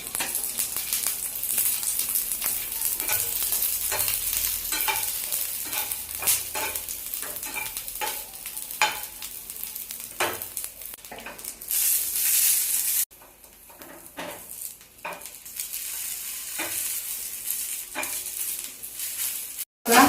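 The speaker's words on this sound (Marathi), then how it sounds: "आता मिरच्या भाजून घेणार आहोत." Chillies roasting in a hot pan while being stirred, with repeated scraping strokes and crackling sizzle close up, the rhythm of the spoon continuing throughout apart from a brief quieter stretch.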